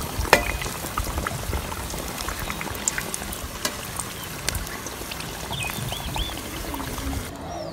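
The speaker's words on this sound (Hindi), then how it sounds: "इस वास्ते तकरीबन 2 तो 3 मिनट एक साइड फ्राई करांगे" Aloo tikki potato patties fry in hot ghee in a pan with a steady, close bubbling sizzle. Scattered pops and crackles rise above the continuous frying hiss.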